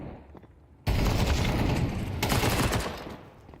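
Rapid gunfire from a Mag 7 shotgun during a Counter-Strike match, a sudden loud burst of repeated shots after a quieter lead-in, sustained for several seconds.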